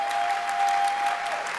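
Applause from an audience at an award ceremony for a national vocal competition, a short burst of steady clapping heard alone at moderate distance.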